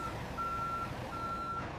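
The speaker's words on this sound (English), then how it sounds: "The delivery truck arrives at the store loading bay, carrying pallets of home fans for stocking." Delivery truck backing into a store loading bay, its reversing alarm sounding three evenly spaced high beeps over a low idling engine rumble, fairly faint and distant with no talk.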